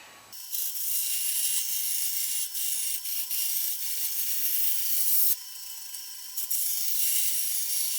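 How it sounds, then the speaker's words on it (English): Ziricote hardwood is cut into strips for guitar binding, giving a steady, loud, hissing high-pitched machine cutting noise that runs continuously with a brief dip and a pause midway. "I'll just cut a couple strips off of this thing and use this for binding"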